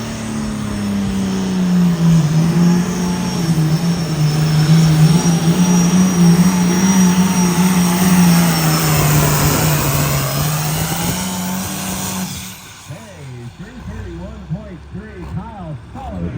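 A high-horsepower pulling tractor roars loudly and close at a truck and tractor pull, a sustained engine drone with shifting pitch that cuts off sharply toward the end, leaving a fading rumble with talk over it.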